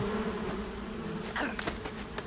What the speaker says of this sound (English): There's bees.